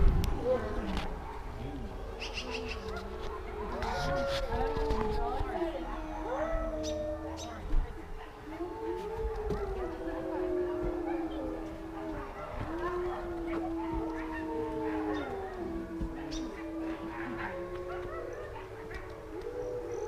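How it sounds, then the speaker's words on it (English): Several wolves howl together at a wolf wildlife center in Colorado, in long, wavering, overlapping cries, rising and falling in a sustained chorus with faint background noise. "Because it's not every day you're going to hear a wolf howl"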